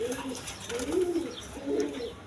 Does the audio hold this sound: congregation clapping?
no